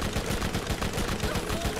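Continuous rapid automatic gunfire in the video game Borderlands from an inaccurate gun, a steady stream of close shots at even rhythm with no pauses, moderately loud throughout.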